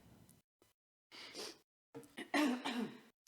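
Someone coughs and clears their throat in a few rough, close bursts separated by short silences.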